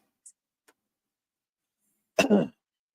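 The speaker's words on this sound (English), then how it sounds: "Still a little sick today, everybody. Sorry for the coughs." A person who is a little sick gives one short, harsh cough in an otherwise quiet space during a car detailing session, preceded by a couple of faint small clicks.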